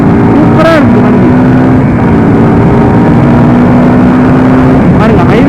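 A Suzuki Gixxer SF 250 BS6 motorcycle cruising at highway speed gives a steady engine drone under heavy wind rush, with a rider talking over it.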